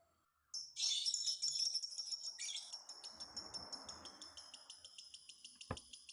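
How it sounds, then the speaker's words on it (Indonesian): Bird calling at night in a steady run of sharp, high chirps that repeat quickly without stopping. The calls are close and clear over a quiet background, with a brief soft rustle in the middle. "Itu burungnya nggak tahu malam apa gimana kok ngekek terus nggak ada hentinya."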